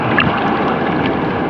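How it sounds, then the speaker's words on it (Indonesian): Water in an amusement park wave pool at VinWonders Nam Hoi An sloshes and washes in a broad, continuous rush, close and fairly loud, with no talk. "untuk ombaknya ini udah keluar pelan-pelan"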